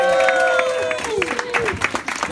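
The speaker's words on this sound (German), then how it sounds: "Ein Applaus für den Tain." Scattered applause rises at a ski-resort prize ceremony as a placing is announced, with irregular claps building under a voice and whistle-like tones early on.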